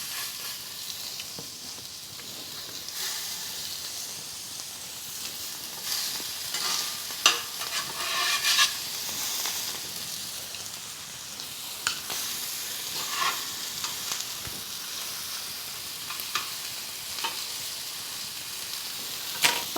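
Oblong Salisbury steak patties fry in a pan with a continuous, moderately loud sizzle. Occasional scraping and clicking sounds come through, and the frying runs on without talk.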